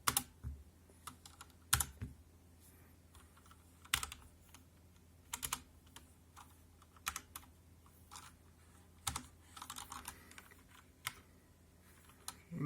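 Someone types on a HyperX Alloy FPS mechanical keyboard with Cherry MX Brown switches, producing close, crisp clacks in uneven bursts and pauses, with no talking.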